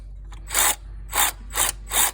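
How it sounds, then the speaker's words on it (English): Ratchet wrench working bolts loose on a Jeep Liberty power steering pump, four short rasping bursts in a steady rhythm, close and clear with no talk. "So we're just taking the bolts off here"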